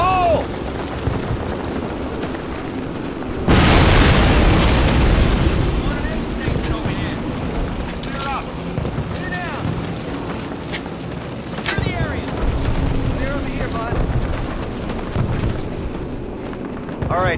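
A grenade goes off in Call of Duty, a sudden loud blast that swells into a long rumbling roar and then settles into a noisy battlefield wash with scattered crackle and distant shouting voices.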